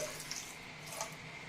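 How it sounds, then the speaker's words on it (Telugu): Water poured from a vessel onto sugar in a pan to start the syrup for Mysore pak, a brief, steady close-up splashing gush. "చక్కెర మునిగే వరకు కొద్దిగా నీళ్లు పోసి"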